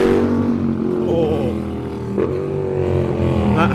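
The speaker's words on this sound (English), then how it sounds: "Open bore exhaust." A car with an open bore exhaust revs loudly nearby, its engine note rising and falling in a harsh, droning tone for a few seconds.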